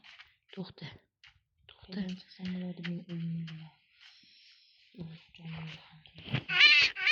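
A cat meows a few times between stretches of a person talking, the meows short and fairly close.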